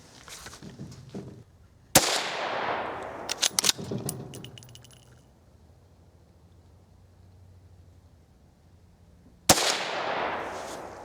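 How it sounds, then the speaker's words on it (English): A Winchester Model 275 rifle fires into wet newspaper outdoors, two loud, sharp single shots several seconds apart, each trailing off in a long echo, with a burst of metallic clicking from the action between them. "We'll shoot into that and see what kind of expansion we get."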